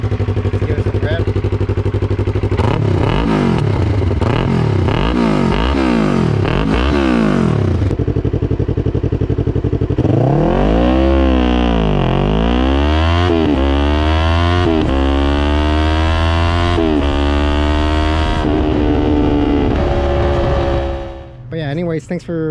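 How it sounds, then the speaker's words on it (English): A Yamaha R3 motorcycle with an aftermarket exhaust is revved hard several times, loud rising and falling engine sweeps, first short blips then longer high revs, before settling back near idle at the end. "Give it some rev."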